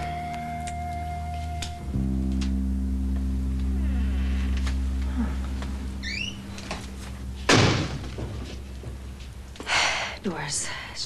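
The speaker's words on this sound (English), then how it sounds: "Doors. It's just doors." Doors open and close in a drama series scene: a low hum and scraping give way to a sharp slam, followed by another thump near the end, with soft voices faintly present.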